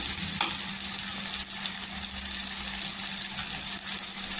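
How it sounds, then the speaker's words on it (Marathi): Salted tomatoes sautéing in hot oil for a spicy cauliflower-potato curry give a loud, steady, close sizzle that crackles without a break, with a brief stirring scrape near the start. "नमक टाकल्यानंतर तेलावर छान असं परतून घ्यायचं"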